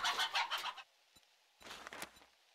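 Chickens in the 7 Days to Die video game cluck in a quick burst of clucks, then pause, then cluck again more quietly with some soft rustle, fairly faint and with no talk.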